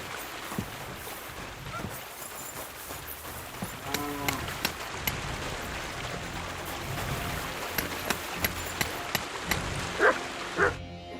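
Dog in Kingdom Come Deliverance 2 giving a run of short yips and barks in the latter half, over a steady bed of game ambience and music, no talking.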